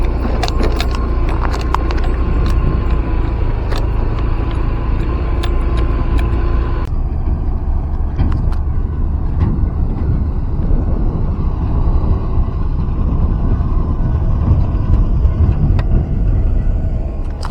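Trucks hauling fill soil roll past on the Padang–Sicincin toll road construction site at Lubuk Alung, a loud continuous low engine rumble with a passing vehicle fading midway, no voices.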